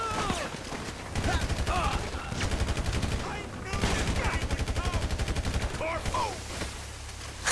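GTA V automatic gunfire rattles in long sustained bursts with brief pauses between, loud and dense, while muffled voices and game effects sit underneath.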